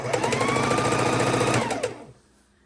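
A sewing machine stitching quilt pieces with a tight, short stitch length hums in a fast, steady buzz for about two seconds, then stops and leaves near silence.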